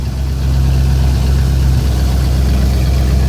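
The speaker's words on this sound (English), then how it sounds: "MagnaFlow exhaust, a straight pipe, so it sounds real nice and it's got some guts to it." A 1976 Dodge truck engine runs through a 3-inch MagnaFlow straight-pipe exhaust, a loud, steady, deep rumble with a strong low drone and no voices.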